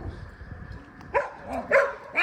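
Several barks from dogs in a residential neighborhood come in short bursts at moderate distance, with quieter whimpering sounds between them.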